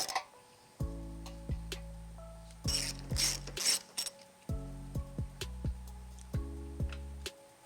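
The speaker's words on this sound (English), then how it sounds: "using an 18mm deep well socket and an extension for ease" Ratchet wrench with an 18mm deep well socket on an extension, loosening flange nuts on a 2016-2021 Mercedes GLC 300 during a trailer hitch install; bursts of rapid clicking alternate with pauses, close and moderately loud, no talk.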